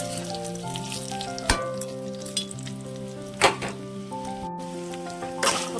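Bitter gourd pieces sizzle in hot oil in a pan during village-style Indian curry cooking, a steady crackling fry with a few louder bursts as the pieces are stirred, and no talking.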